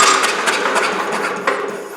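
Starter cranking the engine of a flooded 8000 watt generator, a loud close mechanical whir with repeated rhythmic knocks through the compression strokes, no voices.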